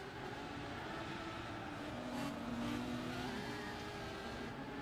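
A rotary-engined touring race car revving hard in Gran Turismo 6, a steady high-pitched engine whine that climbs briefly, heard continuously at moderate loudness with no talk.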